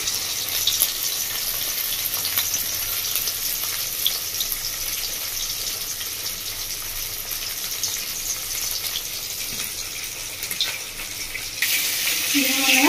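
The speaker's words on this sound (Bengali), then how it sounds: "মাছগুলো তেলের মধ্যে দিয়ে দিয়েছি। মাছগুলো ভালো করে ভেজে নেবো।" Steady, loud sizzling of rohu fish frying in hot oil runs throughout, a dense crackling hiss with faint clatter near the end.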